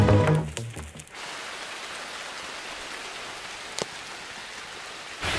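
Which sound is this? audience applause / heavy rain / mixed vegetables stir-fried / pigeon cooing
heavy rain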